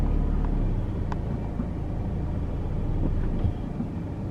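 A car engine hums steadily as the car creeps forward a short way on a highway at night, a low continuous rumble at moderate level with no speech.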